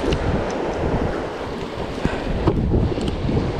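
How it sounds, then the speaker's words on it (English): Strong wind roars over a jet ski far out at sea near an old oil rig in nasty weather. Heavy, constant wind buffeting on the microphone mixes with choppy waves, with a few soft knocks. "Strong wind just picked up"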